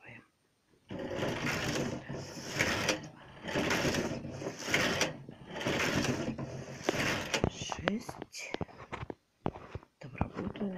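A Neva 5 domestic knitting machine carriage is pushed across a row, giving a loud rasping clatter in repeated strokes, then a run of sharp clicks and ticks. Someone speaks in Russian between passes.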